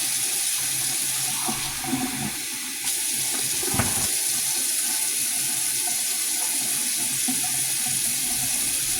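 Kitchen tap water runs steadily into a cooking pot for spaghetti, a continuous close hiss and splash that shifts slightly in tone partway through, with no talking.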